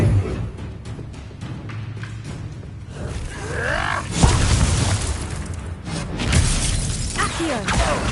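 Incendio fire spell cast repeatedly in Hogwarts Legacy combat: sweeping fiery whooshes and crackling bursts with a heavy boom midway, layered over busy game battle noise and music, continuous and loud throughout.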